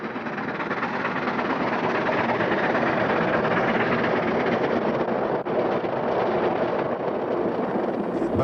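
Two steam locomotives, 3644 and 3802, working hard with the Central West Express through Perthville on the Tumulla Bank in the mid 1960s, a dense continuous roar of exhaust and train noise, loud and steady throughout.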